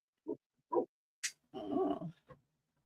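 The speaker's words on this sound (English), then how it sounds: "Can you hear my lap dog?" Large 110-pound Great Pyrenees dog indoors giving a few short, separate barks and whimpers, then a longer whining vocalization and one last brief yip, with quiet gaps between sounds.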